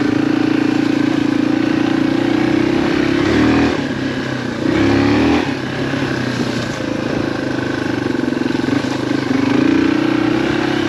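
A Yamaha XT225 dual sport motorcycle engine runs close by, a loud, steady idle with a low throbbing drone that swells slightly in a few brief revs.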